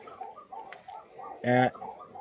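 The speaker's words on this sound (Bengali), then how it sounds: "এই চারটায় মিলে 2 জোড়া কবুতর" Giribaz pigeons coo in soft repeated low phrases, close and steady, while a person speaks over them in one brief loud burst.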